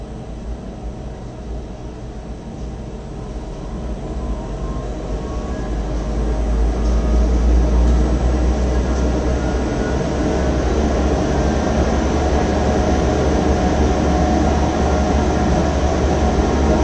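A loud, steady roar from a Harvey G700 dust collector, with a deep low rumble and broad airy hiss, swelling louder partway through as it is turned to maximum speed, then holding at full intensity without pause.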